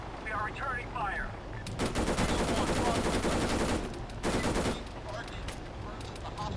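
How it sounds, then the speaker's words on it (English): Small-arms gunfire in the Arma 3 military video game: sustained rapid bursts of automatic fire, loud and dense, with short gaps between volleys and faint radio-style voices beneath. "Broadway, we're taking full arms fire. We are returning fire."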